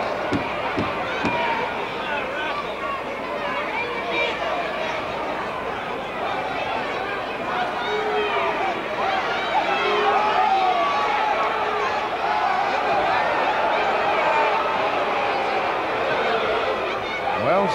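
An enthusiastic crowd murmurs and chatters steadily through a tag-team wrestling match, a dense continuous roar of many voices with occasional laughter, at an even moderate level throughout.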